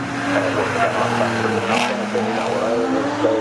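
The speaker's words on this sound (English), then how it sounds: "With the 3-litre BMW M3, it's just, as soon as he gets onto the straight, you can push the throttle and slowly disappear into the distance." A 3-litre BMW M3 racing saloon powers down the straight at Cadwell Park, its steady engine drone running throughout beneath continuous race commentary.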